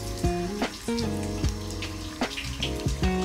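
Well water pours steadily into a cold plunge bath at a forest barrel sauna in Niigata, giving a close, constant splashing and trickling with irregular bubbling and dripping, no voices.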